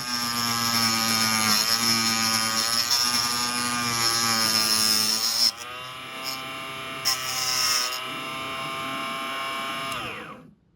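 A metal cut-off wheel cuts through an arrow shaft held lightly in a vise and turned slowly, giving a loud, steady high-pitched whine that wavers as the cut goes on, then dies down at the end.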